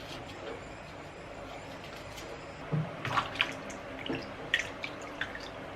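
Tap water runs over peeled ginger root as it is washed, a faint, steady wash of flow with a few soft drips and splashes standing out near the end.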